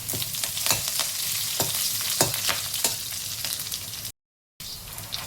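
Green chillies and curry leaves crackle and sizzle loudly in hot oil in a pan for makhana chivda, with repeated spatula scrapes through the steady frying and a brief gap of silence near the end.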